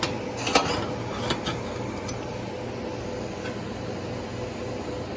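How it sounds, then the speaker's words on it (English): A Primeweld TIG 225 welder runs a steady, even hiss and buzz of a TIG arc, with a few faint ticks near the start and no talk. "Let's see if I can weld the rest of this up real quick"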